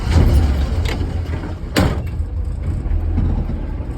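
A Toyota FJ40 Land Cruiser pulls away on a bush road test: a steady low engine rumble runs throughout, broken by a few sharp clunks and knocks near the start and again around the middle.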